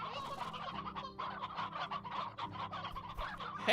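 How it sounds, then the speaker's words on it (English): A crowd of chickens in the video game Slime Rancher cluck and squawk continuously, with dense overlapping calls over a steady low game hum. "Heck, there's a lot of chickens in here."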